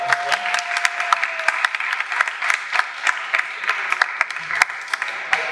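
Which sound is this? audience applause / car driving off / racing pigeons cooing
audience applause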